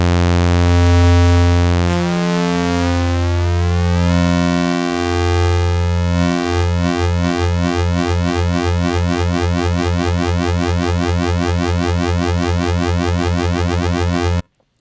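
Glitch bass patch built in the Harmor synth, a continuous buzzy tone whose phaser bands sweep and multiply over time, steady and loud, with no talking.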